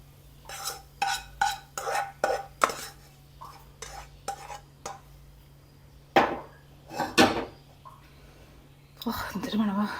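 Prawn thoran is stirred and scraped from a pan with a spoon, giving a run of sharp scrapes and clinks, then a few more metal knocks as it is transferred. A person speaks quietly between the sounds.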